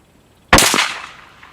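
A single .243 Winchester rifle shot firing a 65 grain V-Max load: one sharp, loud crack after a brief quiet, followed by a rolling echo that fades over about a second.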